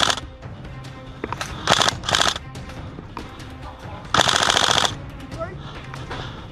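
Bursts of rapid airsoft gunfire crackle close by on an outdoor skirmish site, several short volleys and one longer string, with faint voices in between.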